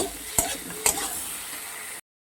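Grated garlic frying in a pan with potatoes and onions: a steady close sizzle broken by two sharp stirring scrapes, cutting off abruptly after about two seconds.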